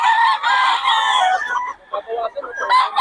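A young gamecock stag crows close by, a loud drawn-out call that breaks into shorter ragged notes near the end.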